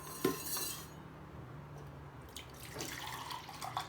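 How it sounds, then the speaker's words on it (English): Homemade curd for mishti doi spooned into a steel container, with close metallic clinks and scrapes of a spoon against steel and some running-water and kitchen clatter, no speech. "rest I am putting in a steel container"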